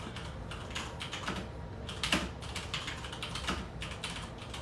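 Quick, close computer keyboard typing in uneven bursts of soft key clacks, with a few louder strikes mixed in and no talking.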